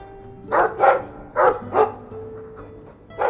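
Dog in the Dragon Age II video game barking five times in irregular pairs, loud and close, with short gaps between barks over a quiet background hum.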